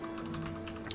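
Computer keyboard typing a setup name, a short run of quick soft key taps close up over a low steady hum, ending on a slightly sharper click.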